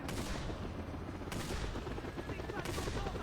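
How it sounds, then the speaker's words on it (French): A helicopter takes off in a video game, heard as a dense, steady rotor roar with gritty rumble. Two sharp bursts punctuate it about a second and a half apart, and no one talks over it. "On va l'accrocher à l'hélico."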